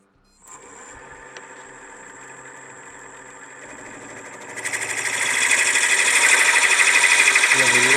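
Wood lathe cutting with a parting tool: a steady mid-pitched motor whine with a faint high tone, then at about five seconds a louder, rough, broadband cutting hiss takes over as the tool bites into the spinning wood.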